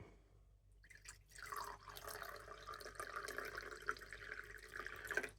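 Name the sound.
distilled ocean water poured into a cup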